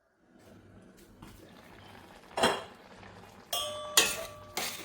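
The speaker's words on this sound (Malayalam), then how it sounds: "ഇനി ഒന്ന് ഇളക്കി മൂടി വെച്ച് വേവിച്ചെടുക്കാം" A spoon stirring cucumber and chopped mango curry in a pot, with soft scraping building to sharp metallic clinks and a ringing clatter as the lid is set on, close and clear with no talk.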